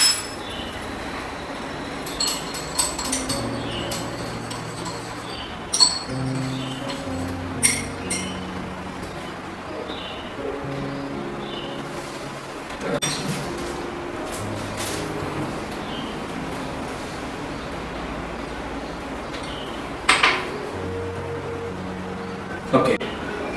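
A spoon stirs a jasmine fragrance mixture in a glass, giving scattered light clinks against steady tonal background sound.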